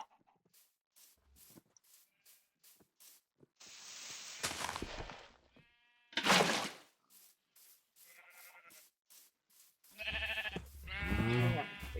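Sheep bleat on a video game farm amid sharp clicks and short bursts of noise, with a loud, wavering bleat rising near the end and faint talk in places.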